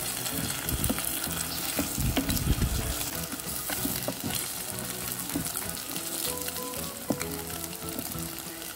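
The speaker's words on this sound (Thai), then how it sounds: "ตั้งกระทะค่ะน้ำมันลงไปแล้วก็ไข่ลงไปเลยนะคะ" Eggs fry in hot oil in a pan for a tomato and egg stir-fry, a continuous loud sizzle with crackles and a few scraping stirs, close up and without speech.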